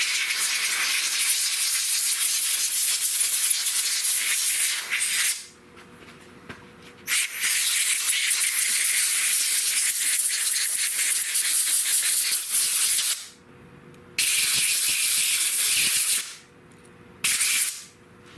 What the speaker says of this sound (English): when you use compressed air, you need to be careful that there's no loose little parts here and there